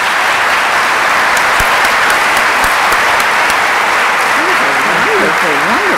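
A conference audience bursts into loud, sustained applause to welcome speaker Lisbeth Schorr at the National Smart Start Conference, with scattered whistles and a voice calling out near the end.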